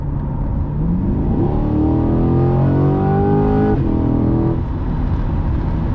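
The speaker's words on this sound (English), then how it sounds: "The way it just takes off and accelerates" A 2021 Chevrolet Corvette C8 accelerates hard, its engine note climbing steadily in pitch through a gear change with a brief dip, loud, close and sustained without speech.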